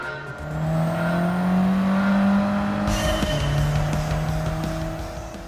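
Race car engine from Gran Turismo 7, a PlayStation racing game, drones steadily with sustained tonal whine and a gear-change shift near the middle, loud and continuous with tire noise, no talking.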